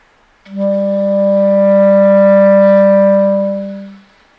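A clarinet sounds a single sustained low A, steady and full-toned with rich overtones, held alone for about three and a half seconds before tapering off.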